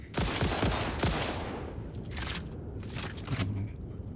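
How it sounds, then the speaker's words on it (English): Rifle gunfire in the video game Satisfactory: several sharp, loud shots ring out in quick succession near the start, followed by sustained crackling bursts and impacts over a dense background of game noise. "I got a rifle now. And here it is."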